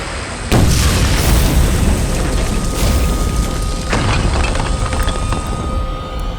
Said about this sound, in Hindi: अब तुम्हारी फुलझड़ी बुझ गई हो तो मेरा धमाका देख